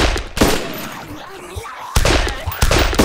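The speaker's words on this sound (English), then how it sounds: "Oh, that revolver is so loud." Sharp, loud revolver gunshots crack out in ArmA 2 DayZ mod, a few spaced bursts with broadband blasts over a noisy battlefield-like background.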